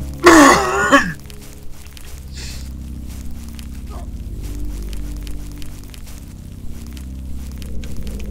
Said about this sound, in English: I know I cough a lot.